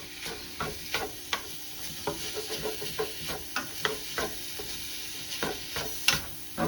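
Meat sizzles gently in a pan as the base for country gravy, a soft frying hiss with frequent stirring scrapes and taps close by.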